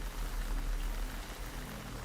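Rain falls in Metal Gear Solid 3: Snake Eater as a dense, even hiss of drops on surfaces with a low rumble beneath, constant and enveloping, with no voices.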